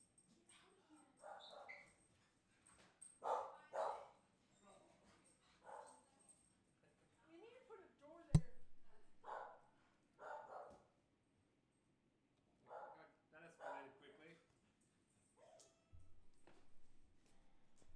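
Dogs bark in scattered bursts, some sharp yips and whimpers among them, fairly close, with pauses of quiet between.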